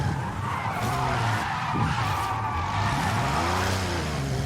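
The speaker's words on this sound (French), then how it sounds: "Je vais essayer de faire un peu de drift." A car drifts in a racing video game, with a loud, continuous tire skid and squeal layered over a droning engine whose pitch rises and falls through the slide.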